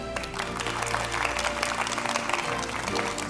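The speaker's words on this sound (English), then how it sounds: "Please join us in a big round of applause to invite Mr. Chen and the panelists." Audience applause at a STEM student event with entrepreneurs, a dense, steady burst of clapping from a crowd, loud and close, lasting throughout.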